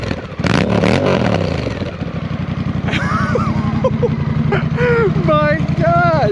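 A Honda Rebel 1100 motorcycle fitted with a cheap short exhaust replacing the full muffler revs hard, the engine popping and crackling as the throttle rises and falls, loud and close, with a person talking over it.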